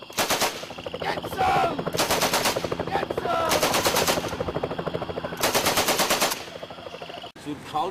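Machine gun fire at a shooting range in Cambodia, several loud sustained automatic bursts separated by short pauses, close to the listener, with brief voices between bursts.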